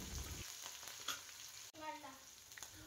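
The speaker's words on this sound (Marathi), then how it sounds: "आता हे सर्व जिन्नस मस्तपैकी तेलावरती फ्राय होऊ द्यायचं आहे।" Chillies and curry leaves fry in hot oil with a continuous sizzle, a brief clack near the middle and bubbling crackle afterward; close and fairly quiet, with no talk.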